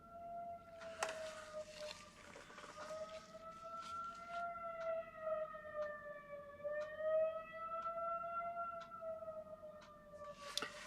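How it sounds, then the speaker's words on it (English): A volunteer fire department's weekly outdoor warning siren test, a sustained wailing tone slowly rising and falling, heard from a distance and fairly faint, with occasional small clicks and no speech. "we have a volunteer fire department, and on Mondays they test the siren."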